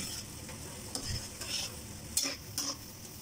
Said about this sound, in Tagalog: Kumukulo na.